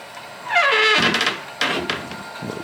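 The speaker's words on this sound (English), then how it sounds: "I'm gonna back out and close my swing up bridge right here." A creaky swing bridge on a model railroad layout swings closed: a rising squeal, then a thunk, a second clunk and a few softer knocks, close up with no voices.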